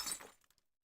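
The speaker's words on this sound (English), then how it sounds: "the glass of your monitor gets broken by itself." Glass in a computer monitor cracks as a horror video game effect: one brief, sharp shattering burst that decays into a few faint tinkling fragments within under a second.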